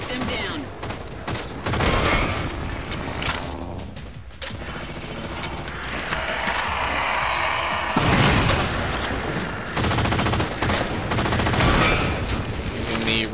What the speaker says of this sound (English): Using the railgun again there.